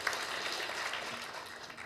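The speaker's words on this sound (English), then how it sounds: "they all deserve a round of applause just for standing up" An audience at a candidate forum gives a steady round of applause, soft and diffuse, clapping continuously for a couple of seconds.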